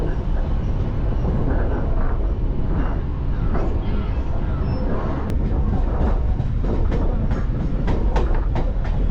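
A Chennai suburban train between Meenambakkam and Tirusulam stations rumbles steadily along the rails with rhythmic clicking and clacking, loud and close, with a voice faintly audible beneath the noise.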